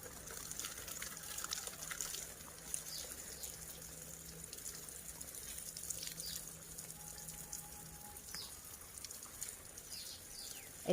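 Water runs steadily from a hose or tap while flowers are being watered outdoors, a faint continuous gushing hiss that stays even throughout with no voices.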